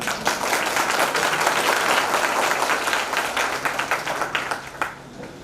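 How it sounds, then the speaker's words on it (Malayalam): A large audience applauds loudly at a school function honouring athletes from VMHSS Vadavannur, with continuous dense clapping that gradually thins into separate claps toward the end. "അഭിനന്ദിക്കുമ്പോൾ നന്നായി കൈയടിക്കണം."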